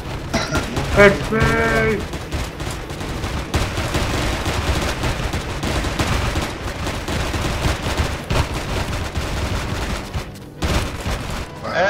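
Dense, rapid gunfire in the sci-fi survival game Empyrion: a sustained barrage of overlapping shots and booms that never lets up, with a brief shout near the start.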